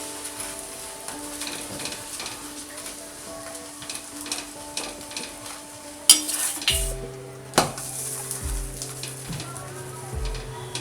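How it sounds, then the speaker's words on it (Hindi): A makki methi paratha fries in oil or ghee on a pan over low to medium heat, with a soft steady sizzle, a couple of sharp clinks as it is flipped, then louder frying and scraping. "अब 1 चम्मच इसके ऊपर ऑयल या घी डालेंगे और पराठे को पलट देंगे।"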